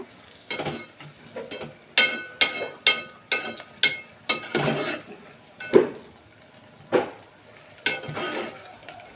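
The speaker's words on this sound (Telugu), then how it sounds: "పచ్చిమిరపకాయలు బాగా వేగినాయి" Green chillies fry in a pan for gongura mutton, with a series of sharp scraping and stirring clatters of a utensil against the pan over a low sizzle, close and fairly loud, no talking.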